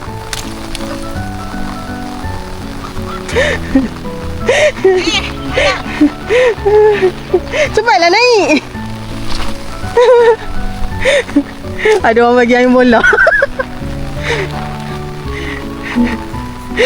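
Steady rain pours down on a flooded campsite with a constant hiss while people talk loudly over it.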